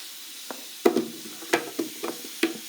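Shallots hit a hot stir-fry pan with a string of short, close crackling sizzle bursts and spatula scrapes, irregular and sharp against an otherwise quiet background.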